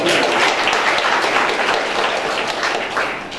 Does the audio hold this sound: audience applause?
yes